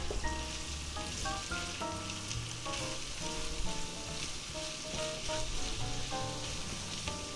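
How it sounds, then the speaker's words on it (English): Garlic and onion with smoked paprika sizzle steadily in a frying pan, a close, even crackle with light scraping as the mix is stirred, no voices. "And we'll give that a little stir."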